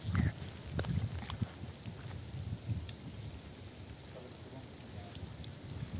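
Steady, continuous rain falls in the Patlian Valley of Azad Kashmir, a soft, even patter close by, slightly heavier at the start and holding level throughout.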